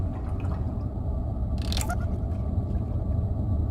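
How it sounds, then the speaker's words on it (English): A brief burst of soft noisy texture rises near the middle of a steady low game background hum, the trigger sound of Blot's mime makeup trinket activating after a failed skill check in a game. "that is Blot's mind makeup activating, which means somebody failed a skill check"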